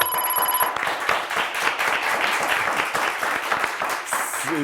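Studio audience at a Turkish word-game quiz show breaking into dense, continuous applause for a correct answer, loud and close, with a brief electronic tone before it and a faint chime near the end.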